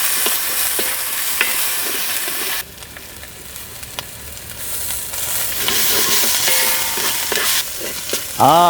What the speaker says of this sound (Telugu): అల్లం వెల్లుల్లి పేస్ట్ పచ్చివాసన పోయే వరకు బాగా వేయించుకుందాం